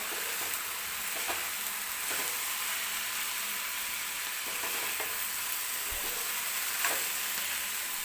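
Spring onion greens sizzle and fry in oil in a kadhai while being stirred, a steady close hiss with soft scraping strokes throughout.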